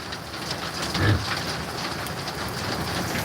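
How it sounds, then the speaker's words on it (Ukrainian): Hail falls steadily during a storm, a continuous dense patter and hiss with a faint thud near the middle, heard outdoors with no talking. "Дивіться, град який, шановні."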